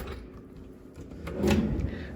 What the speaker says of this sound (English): they got the self-closing drawers, which is really nice